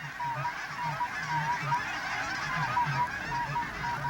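Large flight of migratory geese over South Dakota grain fields, many overlapping honks in a steady rhythmic chorus, moderately close and continuous, no voices.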